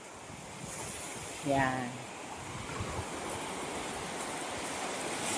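Ocean surf rolling in at high tide near Mabato, a steady broad wash of waves with wind buffeting the microphone, while a voice speaks briefly over it.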